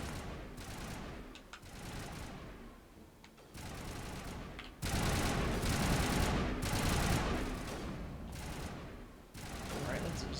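Long-range turrets firing in Mass Effect Legendary Edition during combat against Geth, with sustained bursts of gunfire in loud waves broken by short lulls.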